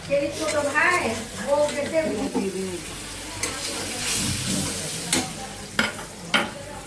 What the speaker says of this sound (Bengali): ইলিশ মাছ ভুনা করবো ভেজে নিচ্ছি